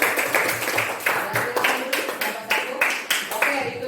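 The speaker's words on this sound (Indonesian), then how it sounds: "kita kasih aplaus dulu buat kelompok 1" A classroom group applauds after a group's discussion presentation: a rhythmic series of clustered claps, fairly close and bright, repeating steadily for a few seconds, with speech-like sound mixed in.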